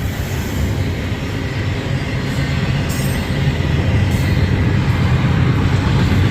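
A Union Pacific freight train rolls past at about 30 miles an hour, a loud, steady rumble of railcars with faint high wheel squeal running throughout.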